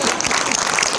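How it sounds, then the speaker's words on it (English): Audience applause after a screening, a steady wash of clapping filling the whole moment without break, with faint voices mixed in. "Let's give him a round of applause"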